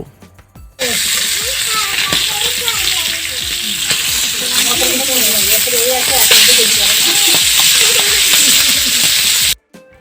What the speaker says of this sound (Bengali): যখন দেখবেন যে তেলটা ভালোভাবে গরম হয়েছে তখন এর মধ্যে মাছগুলো দিয়ে দিতে হবে।